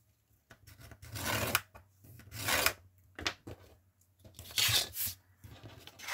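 Paper creased and worked by hand at close range, a series of crisp rustling, rasping strokes in uneven bursts with short pauses between, no voices.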